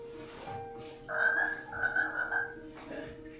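Frogs croak in the distance after a flood, a faint cluster of rasping calls that swells and fades over a few seconds against a quiet background.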